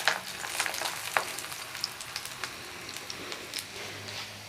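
Makki ki roti of corn flour frying in oil on a griddle over low heat, a steady close sizzle with scattered crackling pops and a few light stirring scrapes.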